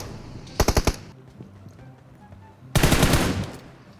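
Gunfire in PUBG Mobile, with a quick burst of four sharp shots followed after a pause by a louder, longer automatic burst. Everything is close and punchy.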